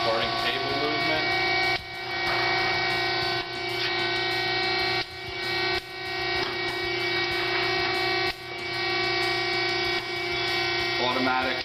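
An Acer 10 x 20 inch three-axis automatic surface grinder hums steadily while its hydraulic table traverses, with a regular thump at each reversal every couple of seconds; a person talks faintly.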